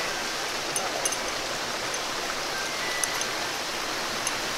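A river flows with a steady, soft hiss of rushing water, broad and even throughout, with a few faint droplet-like ticks and no voices.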